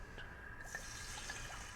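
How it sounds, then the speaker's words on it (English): Red wine pours into a roasting pan holding the browned drippings of a rotisserie ribeye roast, giving a steady, close liquid trickle and splash that runs the whole time, with no voices. "what we're gonna do here now is we're just gonna pour in some red wine"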